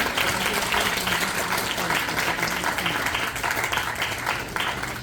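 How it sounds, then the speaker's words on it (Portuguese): A theatre audience claps after the play Mãe Baiana at Teatro Firjan SESI Caxias: loud, thick, continuous applause with a few voices mixed into the crowd noise. "Eu quero dar palmas"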